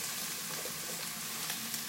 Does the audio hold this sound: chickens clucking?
no